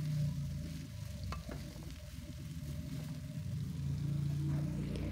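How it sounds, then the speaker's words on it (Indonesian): Spice ingredients, including galangal, sauté in a pan with a steady close sizzle and frying hiss, broken by occasional stirring scrapes and a faint low hum underneath. "ini kita tumis dulu supaya nanti ketika kita haluskan dengan air ya, itu aroma langunya tuh sudah tidak terlalu menyengat"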